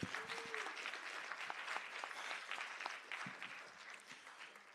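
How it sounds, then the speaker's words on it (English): An audience at a social justice symposium gives sustained applause for Nate, a steady wash of clapping heard from some distance at low level, with a faint voice briefly at the start. "Let's give Nate another round of applause"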